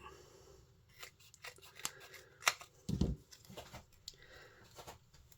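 Scissors snip through card in a handful of separate crisp cuts, quiet and close, with light paper rustling and handling noises between them.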